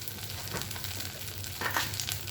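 Pointed gourd stuffing seasoned with salt, turmeric and sugar sautéing in a pan, a steady soft sizzle with occasional louder stirring scrapes, close and continuous.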